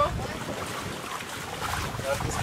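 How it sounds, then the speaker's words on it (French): Wind blows steadily outdoors at sea on a sailboat, a broad rushing noise buffeting the microphone, with faint voices underneath. "le vent commence à arriver"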